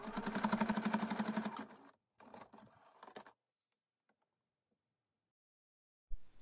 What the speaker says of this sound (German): Dann drehe ich das Ganze und nähe die andere Seite runter.